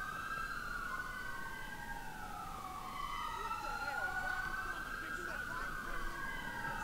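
Several police sirens from about 15 police cars in GTA IV wail at once, overlapping and rising and falling in pitch, steady and moderately distant over a low background rumble.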